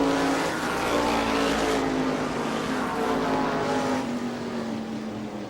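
Race cars at New Smyrna, a FASCAR stock car event, roar past with a steady droning engine note that swells and fades slightly as the field runs the backstretch, loud and continuous with no speech.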